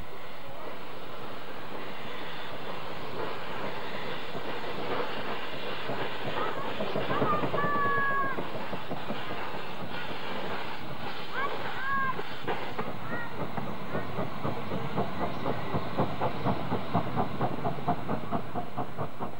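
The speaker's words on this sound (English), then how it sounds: "as the little train leaves the station" A small steam engine chuffs rhythmically and hisses as it pulls away from a station, with whistle toots midway and a voice speaking over it.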